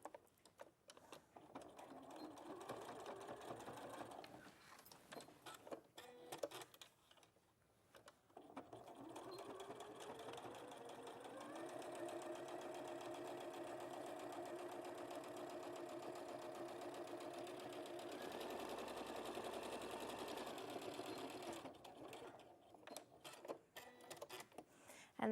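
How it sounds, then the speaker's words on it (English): A sewing machine stitches fabric right sides together, whirring in long steady runs broken by short pauses, fairly close and even in level with no talk over it. "I'm going to stitch it right sides together."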